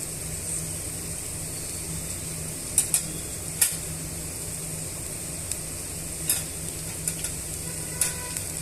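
Onion kachori filling with finely chopped coriander being stirred in a pan, a steady soft sizzle under occasional sharp clicks of the spoon against the pan, moderately loud with no voices.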